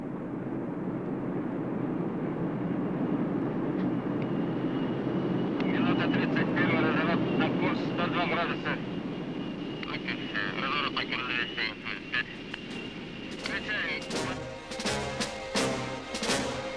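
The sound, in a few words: aircraft in flight carrying paratroops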